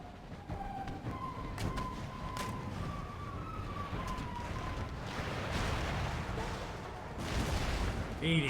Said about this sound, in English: I just hate the sound of those mortars boom booming